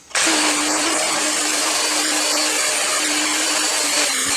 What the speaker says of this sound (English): And this is a heavy duty cup wire wheel.